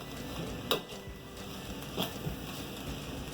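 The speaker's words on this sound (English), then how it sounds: "Now we will add our string beans." String beans hit a hot pan for saltfish rice, giving a soft steady sizzle with two brief louder clatters of stirring against the pan, no talking.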